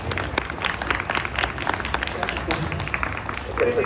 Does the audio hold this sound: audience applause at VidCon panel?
yes